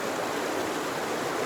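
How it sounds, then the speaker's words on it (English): Water in a mountain stream on the Blue Ridge Parkway rushes over rocks as a steady, close, full-bodied wash with no pauses or voices. "I can literally stay here all day long and just listen to the water"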